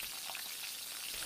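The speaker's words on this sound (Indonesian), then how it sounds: "Apa yang kau goreng tu? Telur ikan." Fish roe fries in a pan with a continuous, dense crackling sizzle, close and steady throughout with no talk over it.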